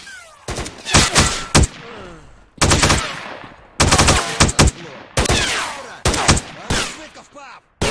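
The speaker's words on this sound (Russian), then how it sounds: "турель стоит" Automated gun turret in the shooter game STALKER firing loud, sharp bursts of automatic gunfire in several separated volleys, with crackling echoes trailing between bursts.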